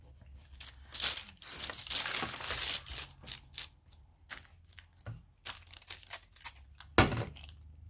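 Paper being rubbed off an inkjet photo transfer on a mixed media dreamcatcher project, a run of dry scratchy scrubbing strokes in close irregular bursts with no talk.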